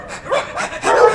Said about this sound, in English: maybe even some stray dogs